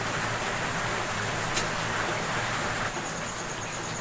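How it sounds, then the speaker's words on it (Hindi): Steady rain falls as a dense, even hiss with no break in its level over a few seconds, and no voice is heard. "थोड़ा बारिश की वजह से आवाज़ भी क्लियर नहीं आ रहा होगा"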